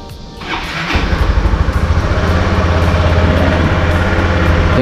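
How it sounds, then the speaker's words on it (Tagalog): A motorcycle engine idles after starting, warming up before a fishing trip, a steady close putter with a low pulsing rhythm that stays loud and even throughout, no talk. "ipipreheat ko lang yung ating motor o papainitin natin saglit"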